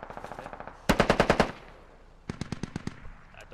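In the Squad military video game, a machine gun fires on full auto in three rapid bursts: a quieter one first, then a loud close burst, then another after a short pause.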